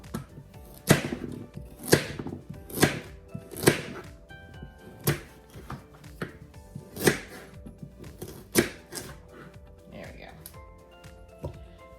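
Carrots are cut into chunks with a knife on a board, about a dozen firm, evenly spaced chopping thuds, close and clear, with a person talking over them.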